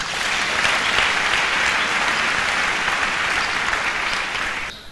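A church congregation claps steadily and loudly as a dense wash of applause that holds for several seconds before cutting off, with no clear voices standing out.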